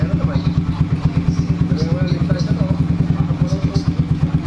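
A Rusi TC Macho 125 motorcycle with newly installed Keihin flat-slide carbs idles steadily up close, its single-cylinder engine thumping in a fast, even, loud pulse.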